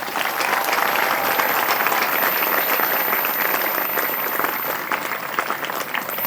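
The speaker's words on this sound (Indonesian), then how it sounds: "Kita tepuk tangan untuk IPKAL semuanya." A big crowd at an Islamic talk honoring IPKAL 2023 competition participants breaks into loud, dense applause, a continuous roar of clapping that stays level throughout with no speech over it.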